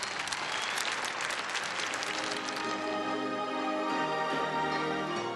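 Audience applause at a Middle East peace declaration during an interreligious peace rally, a steady, moderately distant wash of clapping that continues evenly throughout.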